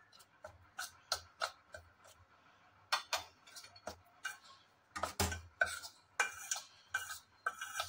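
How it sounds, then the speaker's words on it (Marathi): A spoon stirs semolina and flour into hot ghee in a pan with the gas switched off, giving a run of quiet, irregular scraping and clinking strokes close by, with no talking. "गरम आहे तूप, त्यामुळे मी चमच्याने मिक्स करत आहे"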